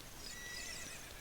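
A horse neighs in The Legend of Zelda: Ocarina of Time, a short, bright whinny heard alone over a faint, steady game background.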